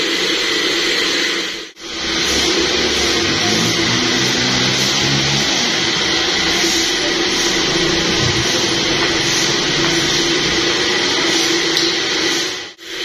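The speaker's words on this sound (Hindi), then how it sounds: "ये शोर जो है ना इस पंखे का है, देखें इतना सारा शोर" A loud, noisy fan runs steadily inside a mobile phone shop, a constant broadband whirring roar with a mechanical hum, briefly dipping once before continuing unbroken.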